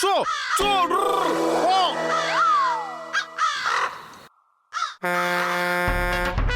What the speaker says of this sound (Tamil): முதல்ல இந்த காக்கா கிட்ட என்ன காப்பாத்து.